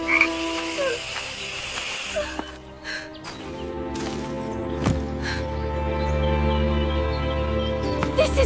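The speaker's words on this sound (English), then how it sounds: "The room filled with croaking and hissing until the widow fled into the yard" Frogs croak in a dense chorus, repeated rasping calls overlapping near and loud, with a few sharp clicks and calls scattered among them in a narrated fairy tale about a cursed sister.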